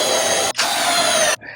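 A power drill driving screws into raised bed timber in a garden, a loud close whirring burst with a brief pause, then a second sustained run that stops sharply.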